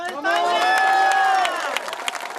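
A large crowd cheers and whoops at a Spanish national team practice, with loud, sustained voices and shouts rising together and then tapering slightly, with scattered claps and bursts throughout.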